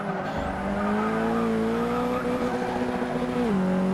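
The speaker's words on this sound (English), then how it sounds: "there's a drag race heading down through turn five towards turn six" Touring cars race at Hockenheim in a racing video game: several engines whine steadily, close and loud, with their pitch sliding up and down through the gears, and tires squeal briefly.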